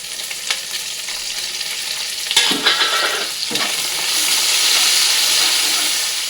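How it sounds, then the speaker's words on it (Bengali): Cashews and raisins frying together in hot oil with chopped green chilli and ginger, a steady sizzle with a few sharp stirring scrapes partway through, the hiss swelling louder toward the end. "এগুলো একটু ভালো করে একসাথে ভেজে নেব"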